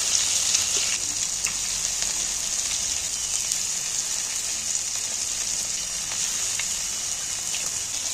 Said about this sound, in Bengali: আমি কিন্তু ভাজছি